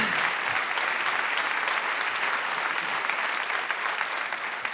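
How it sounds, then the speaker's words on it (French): A roast comedy show's audience gives comedian Tania Dutel a loud, dense round of applause that stays thick and even throughout, many hands clapping close by. "faites un tonnerre d'applaudissements for the wonderful Tania Dutel"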